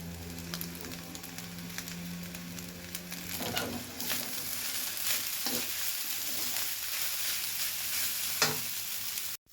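Rice stir-fried with dark soy sauce and holy basil sizzles in a continuous close crackle, with repeated scraping strokes of the spatula, before cutting off abruptly at the end.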